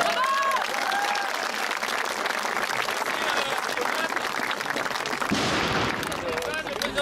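A crowd of livestock farmers at an outdoor protest in Le Mans applauds for several seconds, dense and continuous clapping with voices and crowd noise mixed in, shifting in character partway through.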